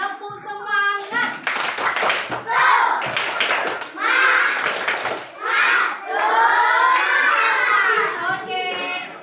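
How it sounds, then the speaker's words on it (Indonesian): Schoolchildren in an Indonesian classroom clap in bursts of rhythmic group clapping, led by a teacher, with loud shouting and chanting voices mixed in throughout. "kita tepuk tangan semangat dulu"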